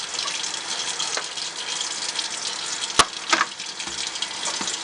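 Water runs steadily from a tap while a makeup brush is wetted and rinsed at a sink, a soft continuous hiss with a sharp click and a few brief splashes partway through.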